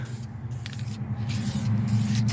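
An aerosol can hisses steadily as paint is sprayed onto an engine valve cover, a continuous near spray with slight pulses and no talk.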